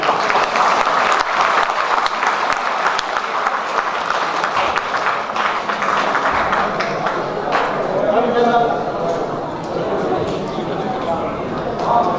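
Students clap loudly at the opening of the Janakpur International Film Festival in Janakpurdham, a sustained burst of applause that thins out toward the end while a voice speaks over it.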